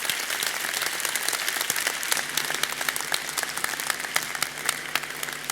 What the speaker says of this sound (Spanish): permítanme que pida un aplauso para Fernando de Pablos